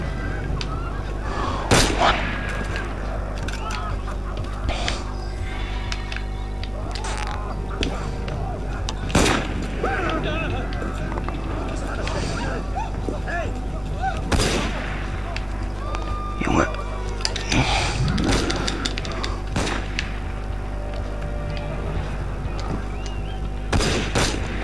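Gunfire in the Assassin's Creed Unity video game, scattered sharp shots cracking at irregular intervals over a constant low rumble of game ambience, some near and loud, others fainter.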